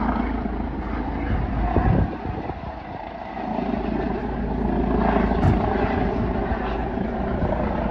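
Police helicopter flying overhead a village, a steady rotor drone that dips briefly then swells louder again, heard continuously with no talk.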